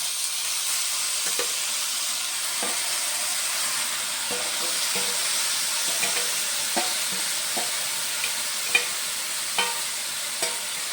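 Tomatoes hit a hot frying pan, making a constant bright hiss of sizzling dotted with soft pops and clicks, close and unbroken, with no voices.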